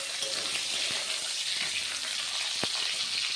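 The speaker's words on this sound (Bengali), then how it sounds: "এবার এটা হালকা ভেজে নেব" Tomato and chopped ginger fry lightly in a pan with a steady, close sizzle, broken by a few soft stirring knocks and one sharp clink near the end.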